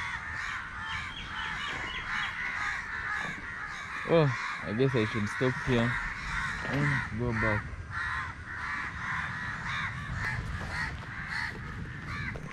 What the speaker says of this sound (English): How these crows making some noise.